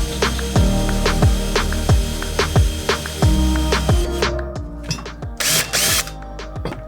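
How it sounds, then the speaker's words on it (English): Power drill fitted with a cobalt bit boring through a steel piece for skoolie captain's chair mounting, a steady close, loud motor whine with repeated ratcheting clicks and bites, then a brief burst of grinding as the bit cuts. "drill through the whole steel piece and then use the step bit after"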